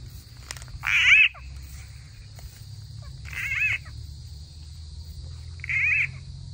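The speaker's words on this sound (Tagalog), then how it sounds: "Yan daw yung pinapatugtog nila kapag naghuhuli sila ng palaka." Three short croaking frog calls, well spaced, over a steady low hum and a constant high-pitched whine, recorded playback used to catch frogs in a farm field.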